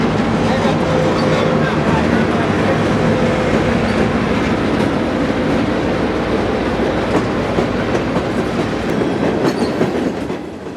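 An FEC freight train passes near Miami with a loud, continuous rumble and rhythmic clatter of wheels on rail, filling the whole stretch and beginning to fade toward the end.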